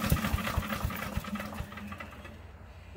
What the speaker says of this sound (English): The engine won't start if it's jammed.